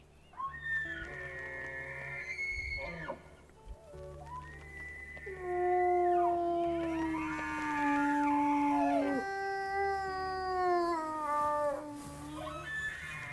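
A bull elk in the video game WolfQuest calls repeatedly with high, sliding, whistle-like cries. Several rising and falling wails overlap over a low ambient hum, some louder and nearer than others.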